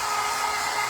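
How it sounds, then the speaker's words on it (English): A hair dryer runs steadily throughout, a loud, even blowing whoosh with no pauses and no voices. "I'll put the dryer in the right hand."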